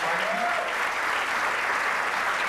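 Steady audience applause from a crowd at a comedy show, a dense even wash of clapping that fills the whole stretch without letting up.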